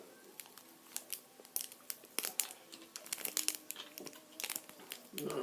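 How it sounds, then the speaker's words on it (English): Crinkly plastic candy packet, a sushi candy kit, is crumpled and torn open by hand, with sharp crackles and rustles coming in irregular bursts up close. "going to open my little kit, my little packet"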